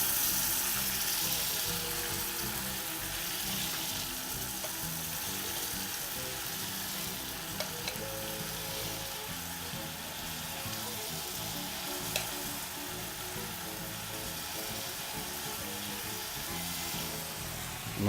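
Chicken fried rice mixture sizzles and crackles steadily in a hot pot, a dense continuous frying hiss with occasional soft clinks, close and loud throughout with no talking.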